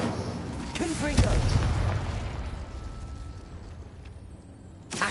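A Confringo spell in Hogwarts Legacy goes off as a loud fiery blast with booming bursts, crackling tails and a short swoop, under a voice speaking, ending with another sharp burst.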